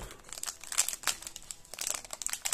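Crinkling and rustling of a foil Yu-Gi-Oh booster pack wrapper as someone struggles to tear it open, a close, short burst of irregular crackles and scrunches with no talking.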